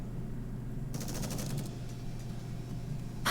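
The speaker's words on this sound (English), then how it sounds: "Gunfire!" Distant gunfire in Goddess of Victory: Nikke, a short rapid rattle of automatic shots over a steady low hum, moderately faint and heard alone.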